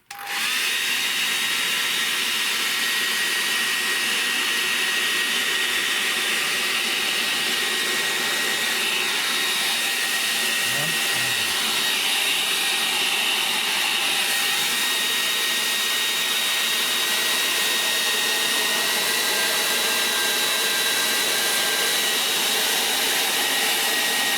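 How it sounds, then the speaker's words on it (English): A hair dryer blows steadily at close range to soften glue, a loud continuous whooshing hum that runs unbroken from start to finish. "I'm going to use the hairdryer to soften the glue in it"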